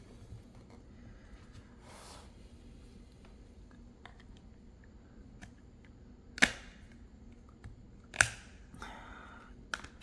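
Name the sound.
snapping a Ringke Fusion case onto an iPhone 15 Pro Max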